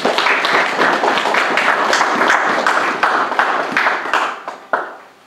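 Congregation applauding in a church service: steady, dense hand clapping from a crowd, sustained and lively, fading out with a last few scattered claps.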